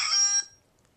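An alarm rings in a short loud burst of dense, high-pitched ringing that stops abruptly after about half a second, leaving near silence.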